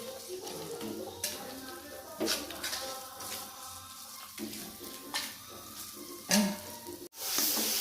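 Spice paste (bumbu) frying in a pan while being cooked until browned for a chicken dish, giving a steady close sizzle with scraping stirs and a few sharper clatters, no talk.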